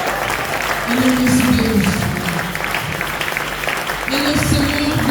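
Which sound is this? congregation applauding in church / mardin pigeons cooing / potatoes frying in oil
congregation applauding in church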